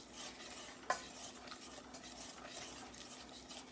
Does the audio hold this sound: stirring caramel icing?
yes